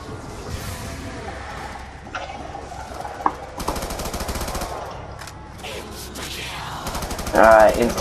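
Weapons fire in the Black Ops 2 Zombies video game, with bursts of rapid shots and mechanical clatter over a busy game soundtrack. Loud effects break through near the end.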